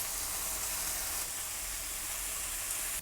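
Pork belly sizzles in a hot frying pan with a steady, crackling hiss that holds at the same level throughout, close and prominent.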